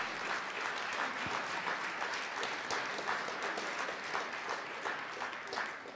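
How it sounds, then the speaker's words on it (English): An audience applauds steadily throughout at an award presentation, a dense, even wash of clapping that holds at a constant level from start to finish with no talk over it. "please give them another round of applause"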